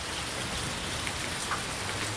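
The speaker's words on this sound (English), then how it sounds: "We got more than our share of rain this week." Steady rain falls outdoors, a close, even hiss of drops striking surfaces with no pauses or voices.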